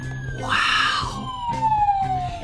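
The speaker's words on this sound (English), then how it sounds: "It even has sirens!" A toy police car plays a siren, a loud electronic wail that sweeps downward, with a few short bursts of other sound mixed in.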